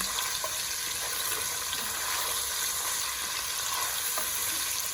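Onions, 900 grams, fry in oil for a Bangladeshi akhni, giving a steady, dense sizzle throughout with faint scraping stirs, no voices.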